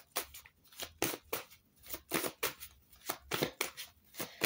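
Oracle cards are shuffled by hand in a steady run of quick, crisp riffling bursts, close and fairly soft, with no voices over them.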